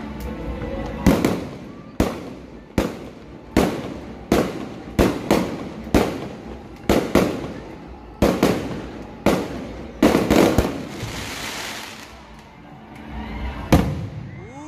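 Fireworks at a grand rally in Biñan, Laguna, going off as a rapid series of loud, sharp bangs and crackling bursts, roughly one every second, with brief pauses and a final burst near the end.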